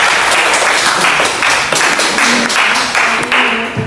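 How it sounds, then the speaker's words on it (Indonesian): Classroom applause for group 2 after their presentation in an Islamic cultural history lesson, many hands clapping in a loud, steady patter from a nearby crowd, with no talk over it. "Beri aplaus untuk kelompok 2."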